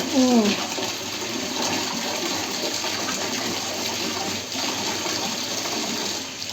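Continuous rush of water spraying and leaking from a tap fitting, close and steady throughout.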